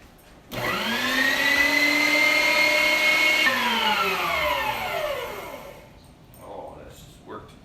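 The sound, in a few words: meat grinder grinding skinned trout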